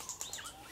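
A wild bird calls from thick mountain bush near a river, giving three or four quick, faint high chirps spaced a fraction of a second apart, alone with no talking.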